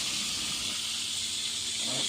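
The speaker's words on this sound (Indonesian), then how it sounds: "menggoreng sotong" Squid coated in flour batter sizzles in hot oil, a steady, bright frying hiss that stays close and constant throughout.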